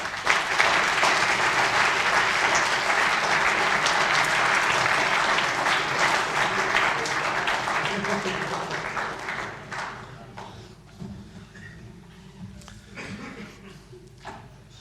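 Audience applause at a civil engineering conference, loud and dense at first, then thinning into scattered claps and fading toward the end.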